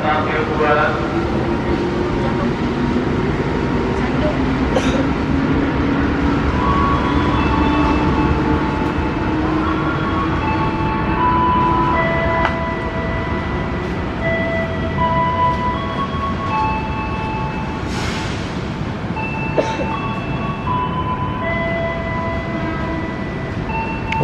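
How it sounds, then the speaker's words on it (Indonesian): A locomotive and a KRL commuter electric train passing each other at Jatinegara station in Jakarta, a loud continuous rumble and rolling wheel noise with squeals and hiss, sustained throughout with brief sharper bursts. "ada lokomotif dan KRL papasan tuh di sana"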